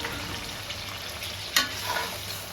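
Cumin, pepper, onion and garlic paste with a little water frying in a pan for a Bengali prawn malai curry, a steady close sizzle with a brief scrape of stirring.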